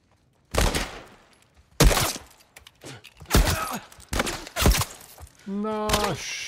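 Gunfire in the video game The Last of Us: four or five loud, sharp shots spaced about a second apart, each with a short ringing tail, ending in a sustained harmonic sound.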